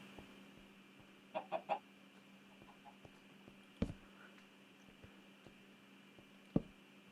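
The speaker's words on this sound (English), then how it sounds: "Why are there so many chickens?" Several chickens in Minecraft give soft, faint clucks: a quick cluster of three, then two isolated sharp clucks spread seconds apart over a steady low ambient hum, with no talking.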